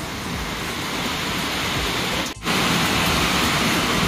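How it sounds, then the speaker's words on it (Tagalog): Heavy rain pours steadily as broadband roar on a covered area where birds are fed pellets and mixed seeds, loud and continuous with a brief dip midway, no talk. "Sobrang lakas po ng ulan."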